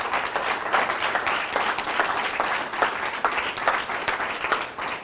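A room of listeners at an investment strategies talk gives a full round of applause, dense and even clapping at moderate volume throughout with no voices on top.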